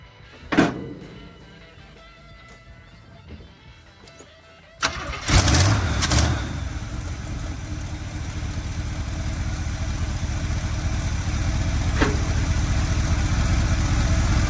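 A 1972 Chevrolet 402 big-block V8 cranks and catches after a few quiet seconds, then settles into a steady, loud idle that continues to the end.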